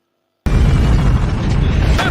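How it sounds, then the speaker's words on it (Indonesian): A sudden loud bomb blast in a film after a brief silence, followed by a sustained heavy roar of rumbling debris that fills the rest of the moment. "Karen membuang bom kecil yang didapati Karen sehingga membuat Harry dan anak buahnya meledak."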